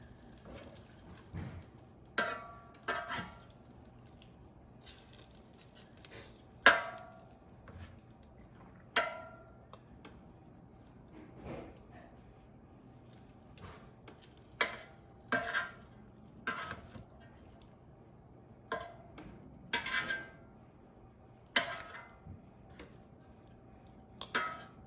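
Tongs or utensils clink and scrape against a metal air fryer basket while beef pieces are flipped and redistributed, a series of sharp intermittent clatters over a quiet background.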